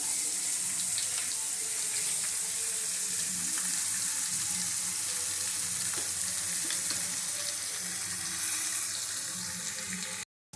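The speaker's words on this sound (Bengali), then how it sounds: "এবারে বাদাম আর নারকেল ভাজা তেলের মধ্যেই আমি মাছের মাথাগুলো দিয়ে ভেজে নেব" Hilsa fish heads fry in oil left from frying peanuts and coconut, giving a loud, steady, close sizzle that runs without a break and cuts off abruptly at the end.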